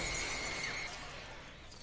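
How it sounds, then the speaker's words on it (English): A sustained high-pitched scream from a LEGO Jurassic World game character breaks glass, and a bright shattering crash follows. The scream tone fades and the debris sound dies away, loud and close. "you pick a girl that can scream in a high pitch to break the glass."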